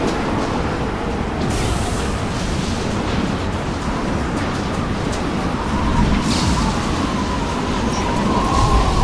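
Storm wind and crashing waves from the video game Mass Effect 2, a dense, steady roar of rushing air and surf that swells slightly toward the end, loud and continuous, with no speech.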